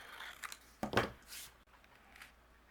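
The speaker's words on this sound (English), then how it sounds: "I'm going to trim this down." Scissors trimming a piece of timber-brown cardstock, a few quick close snips and paper rustles, quiet and isolated.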